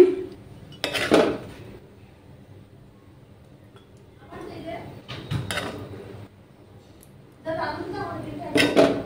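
Serving mango sewai: ceramic dishes and metal spoons clink and clatter in short sporadic bursts separated by quiet pauses, close and fairly faint.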